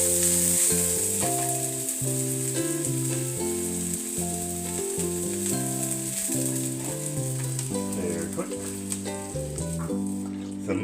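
Vegetables sizzle steadily in a hot pan over medium heat while being softened for an omelet, a constant frying hiss running under gentle background music.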